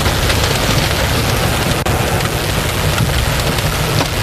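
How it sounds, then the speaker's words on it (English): Heavy rain and hail pound down in a thunderstorm near Mineral Wells, a loud, dense, unbroken roar that may include wind noise on the microphone. "just completely inundated with heavy, heavy rain. That hail is falling just at a rapid pace"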